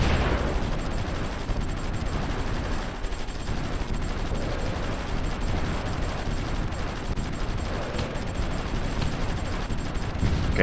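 Gunfire and artillery from the strategy game Supreme Ruler Ultimate form a continuous dense rumble of shots and blasts at steady loudness from start to end.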